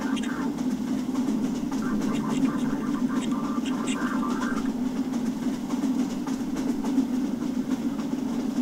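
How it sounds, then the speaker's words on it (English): A Combine train rolls along steadily in the Half-Life: Entropy Zero game, its continuous rumbling drone and rail clatter running for the whole clip with no breaks or change in level. "I'm in like one of the combine train things."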